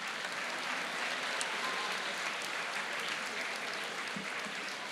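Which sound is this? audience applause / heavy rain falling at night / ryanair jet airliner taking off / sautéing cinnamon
audience applause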